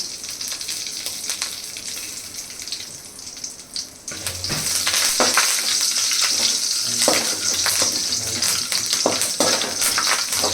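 Dried red and green chillies fry in a pan over low heat for South Indian pepper chicken, a soft sizzle that jumps into a louder, busier crackle midway, with scraping stirs and no voices.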